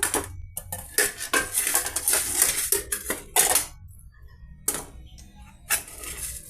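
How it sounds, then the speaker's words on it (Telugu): Raw chilli, onion and tomato pieces mixed with salt and chilli powder in a vessel, loud clattering scrapes and clinks of a spoon against the pot in uneven bursts separated by short pauses. "చూస్తున్నారు కదా, బాగా మిక్స్ చేసేయాలండి."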